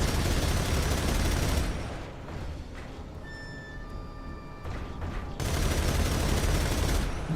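Sustained rapid anti-aircraft gunfire in the stealth action game MGS Delta, a dense roaring barrage that pauses briefly midway with faint tonal ringing before resuming at full loudness.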